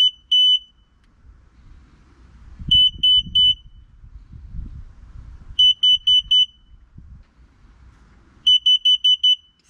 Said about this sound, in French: Et on va attendre 6 bips.